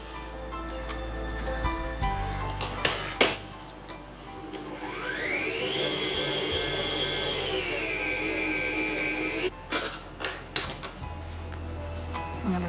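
An electric mixer whirs steadily, beating butter, cream cheese and icing sugar for a red velvet cake frosting, its motor pitch rising and then dropping midway, with clicks and knocks from the bowl and a quiet stretch at the start.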